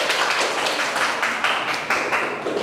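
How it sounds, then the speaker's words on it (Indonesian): Classroom applause for a student presentation group, a steady patter of many hands clapping throughout with no voices. "Kasih aplaus ya untuk kelompok 3"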